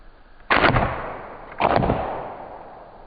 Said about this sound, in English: And there's our second shot on the ballistic dummy head